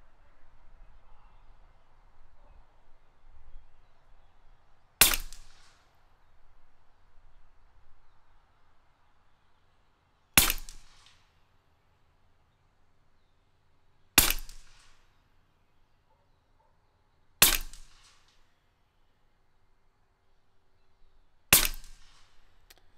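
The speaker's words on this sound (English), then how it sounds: "Let's go ahead and get a 5-shot group at 50 yards." Five sharp shots from a Western Rattler full-auto airgun firing slugs at a 50-yard target, each crack spaced a few seconds apart with quiet gaps between, loud and close.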